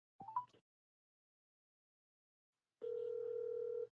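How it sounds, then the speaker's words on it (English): A brief tone, then after a silent gap a steady electronic ring tone begins on a phone line, faint and thin. "It's ringing now."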